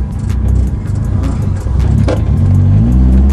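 A turbocharged rotary-engined Mazda Miata revs at close range, a rough, throbbing engine note rising and falling through short pulls, with a few light clicks and rattles.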